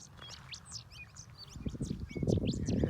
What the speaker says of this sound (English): and heard all these beautiful birds.